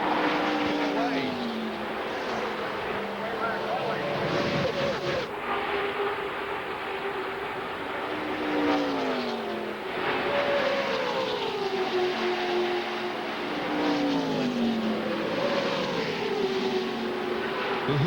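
Stock cars at Talladega Superspeedway in 1998 drone past in a continuous engine roar, pitch rising and falling as the pack draws by, with commentary talking over the racing.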